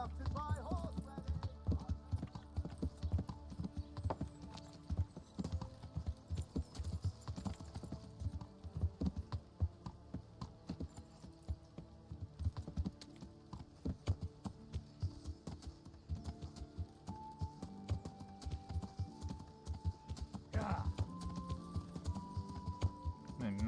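Horse hooves clip-clop steadily and rhythmically through a Kingdom Come Deliverance ride, with game music and ambience underneath and a brief swell of effects near the end.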